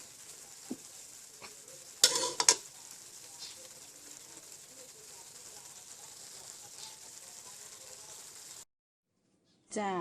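Mixed wild mushrooms stir-fried in a pan: a steady soft sizzle with scattered clinks and a louder clatter of stirring around the two-second mark, then a short silence before the sound returns briefly.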